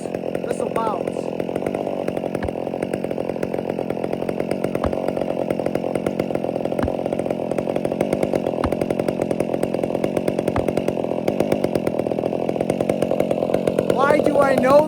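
A chainsaw cuts into a coarse, tough-grained wood stump, its engine buzzing loud and steady throughout with rapid chain rattle, and brief speech near the end.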